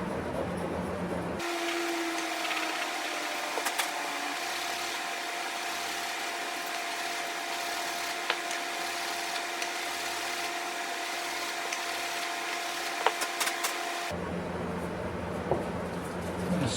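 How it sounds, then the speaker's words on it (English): A power sander works the corners of a wooden memory box, a steady, loud whirring drone that holds for about twelve seconds before cutting off, with quieter room noise on either side. "So I'll sand the corners a little bit more."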